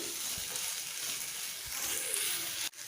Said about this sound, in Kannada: ಇವಾಗ ಒಂದು ಎರಡರಿಂದ ಮೂರು ನಿಮಿಷಗಳ ಕಾಲ ಈ ತೊಂಡೆಕಾಯಿ ಏನಿದೆ ಇದನ್ನು ಫ್ರೈ ಮಾಡ್ಕೊಳ್ಳೋಣ ಚೆನ್ನಾಗಿ